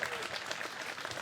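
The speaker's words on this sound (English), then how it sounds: "the crowd likes it from back there, but they don't see where McBeth is" Crowd applause and clapping at a disc golf tournament (2022 Discraft's Green Mountain Championship) after a shot, a steady, dense burst of cheering from spectators with a commentator's voice faintly under it.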